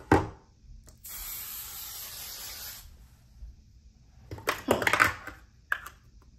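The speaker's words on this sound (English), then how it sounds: "I'm gonna go ahead and use this Tresemme Extra Hold Spray." Tresemme Extra Hold hair spray hisses out in one steady burst of about two seconds, close and fairly loud, framed by faint handling clatter and rustling before and after.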